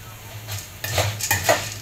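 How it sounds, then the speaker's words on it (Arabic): Dry macaroni toasting in hot oil in a pot, stirred with a utensil: a low steady sizzle under repeated bright metallic scrapes and clinks, close and moderately loud, with no talking. "هنا المكرونه اهي داخله على التحمير"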